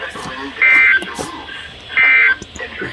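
Two loud steady alert tones from a weather radio emergency broadcast during storm warnings, each lasting about a third of a second, separated by a pause, with a broadcast voice speaking around them.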